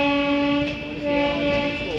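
A train on an Indian railway sounds a long, loud horn with sustained tonal blasts, heard close over rolling rail noise as it passes during an overtake.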